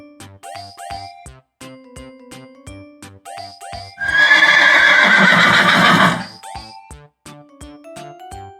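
A farm horse gives a loud, sustained whinny lasting about two seconds, framed before and after by brief chiming jingles and clip-clop hoof beats in a clean, close recording.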